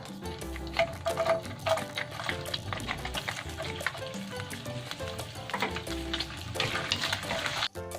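Garlic fries in a pan for a chicken liver and gizzard sisig, a continuous close sizzle broken by stirring scrapes and light utensil clinks, with music faintly behind.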